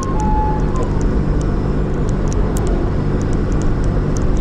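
A Daihatsu Copen L880K fitted with a sports ECU climbs an uphill road, giving a steady, continuous engine and road roar with no pauses and no voices.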